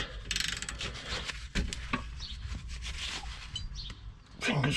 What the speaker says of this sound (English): Right, so we've got 18 socket on there.